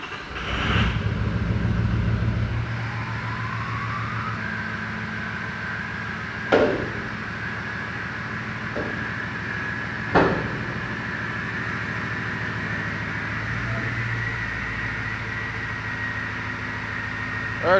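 A vehicle engine strains to pull a trailer forward and break a rusted frame loose, a steady low idle-like rumble with a rising tone, punctuated by two sharp metallic bangs.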